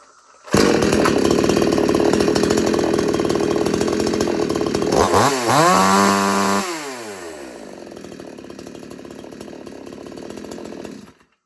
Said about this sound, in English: Now that's the way you want your saw to run at.